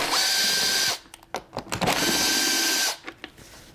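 A powered Torx T27 driver running in two loud, sustained whirring bursts on the screws of a cut-off saw cover, with clicks and rattles of the tool and parts in between.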